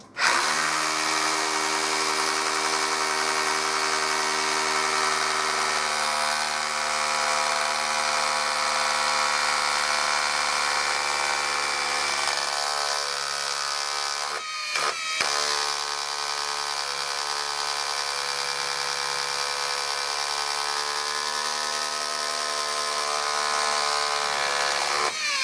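A Makita DHR171 cordless rotary hammer drills with a 5.5mm bit in a steady, close, high-pitched whirring hammer buzz that runs continuously for about fifteen seconds, cuts out briefly, then resumes for another ten seconds.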